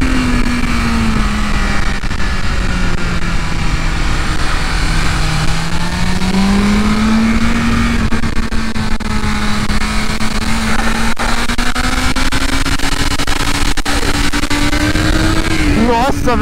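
A BMW S1000RR M Package superbike at Interlagos circuit, recorded close and loud from on board, its engine droning steadily at high revs, with the pitch dipping and climbing through gear changes and a brief sharp rise near the end.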